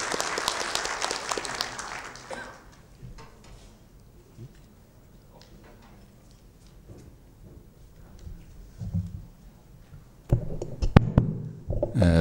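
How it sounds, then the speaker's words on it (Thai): A lecture audience applauds a guest doctor introduced before a talk on road construction over soft ground: a dense burst of clapping for about two seconds, then dying away into quiet room noise with occasional knocks and handling sounds. "ขอเสียงปรบมือให้กับทางดร."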